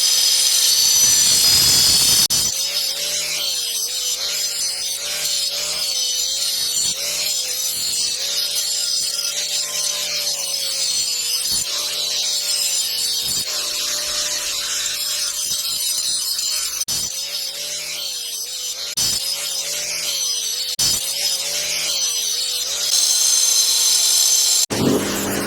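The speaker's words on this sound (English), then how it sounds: "we need to grind out all these old cracks, fill them in, and then get ready for the fiberglassing" An angle grinder or similar power tool grinds out old cracks in a water feature ahead of filling and fiberglassing, a loud, steady whine running almost without pause, with repeated brief dips as the tool is eased off and pressed back into the surface.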